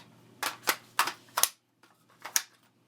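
A rifle's magazine release button and magazine make a quick run of sharp, close mechanical clicks and clacks, four in fast succession, a short pause, then two more.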